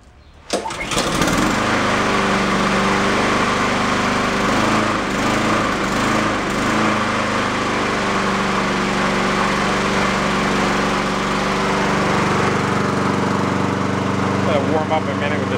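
A repaired Honda lawn mower engine starts and runs at full throttle, a loud steady droning roar close to the microphone that holds level throughout.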